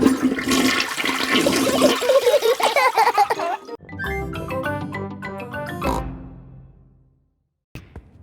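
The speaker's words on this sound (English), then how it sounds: "Flush the toilet, George." A toilet flushes in the Peppa Pig cartoon, a loud gushing roar that swirls and drains away over several seconds before falling quiet, with brief cartoon voices around it.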